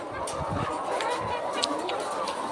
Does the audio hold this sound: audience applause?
no